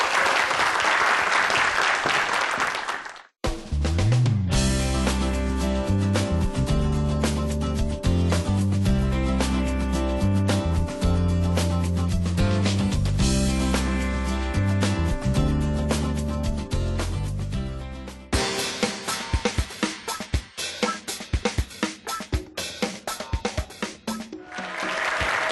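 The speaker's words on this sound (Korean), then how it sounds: "큰 박수로 환영해 주시면 고맙겠습니다." A studio audience claps to welcome a startup CTO onto a Korean science TV talk show, with a brief dense burst at the start, then music takes over before scattered claps return near the end.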